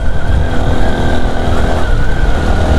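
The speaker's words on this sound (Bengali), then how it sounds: "আমি যে রাতে বাইক চালাচ্ছি, বিশাল রাস্তা" A motorbike riding at roughly 60 to 70 km/h on a wide, empty mountain road at night, a loud continuous engine drone with steady wind rush close to the rider.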